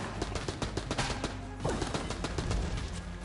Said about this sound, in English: Who needs a fancy laser alien gun when you just got the good old fashioned AK-47?